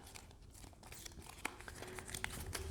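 A mini tarot card deck shuffled by hand, giving a faint, quick run of crinkly, papery card riffles and taps with no talking.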